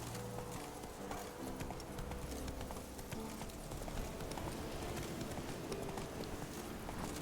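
Roach the horse trotting in The Witcher 3, a steady quick clip-clop of hooves carried under busy game music and ambience, continuous and fairly close throughout.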